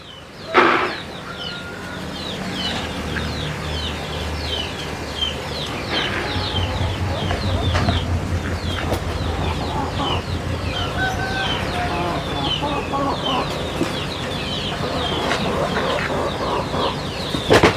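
Pet chickens at a home farm cluck and squawk repeatedly while wings flap and flutter nearby, a busy, continuous backdrop of bird calls and rustling with a sharp burst near the start.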